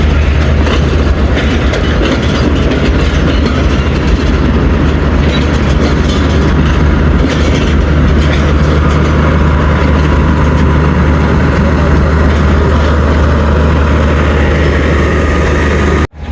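The 38 DN Baba Fareed Express stands at Lahore Junction station with a loud, continuous rumble and a deep idling engine hum under it. The sound holds steady and then cuts off abruptly at the end.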